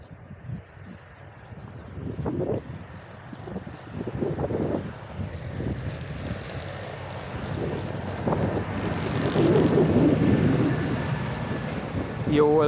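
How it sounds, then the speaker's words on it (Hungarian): A loud tractor rumbles past on a farm where Limousin heifers are raised, a low engine drone that builds and grows louder toward the end, with voices speaking over it. "Megijedtünk a nagy hangos traktortól."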